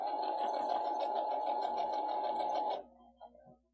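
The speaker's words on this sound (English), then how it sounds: "And then go ahead and sew all the way back up." Sewing machine stitching elastic, a continuous close whirring run of rapid stitches that stops abruptly near the end, followed by a few small clicks.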